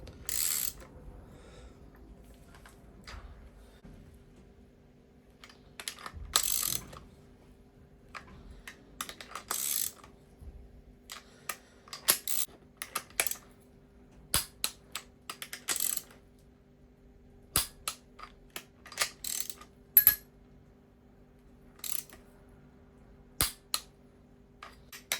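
A hand ratchet snugs down the bolts on a cafe racer motorcycle engine, with scattered bursts of crisp, rapid clicking separated by quiet pauses, close and dry in a still workshop.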